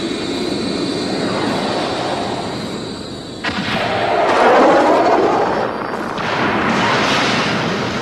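A jet aircraft takes off with a loud, sustained engine roar that swells midway with a rushing burst and then holds steady, alone without voices.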